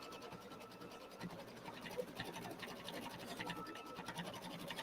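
A sewing machine stitches fabric with a faint, steady mechanical whir and light rhythmic ticking that runs throughout at a low, slightly distant level.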